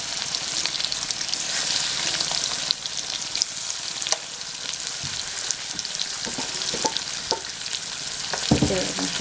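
Turmeric-rubbed fish pieces fry in a little hot oil in a wok, a continuous close sizzle with frequent spitting pops and a few scraping knocks from a spatula.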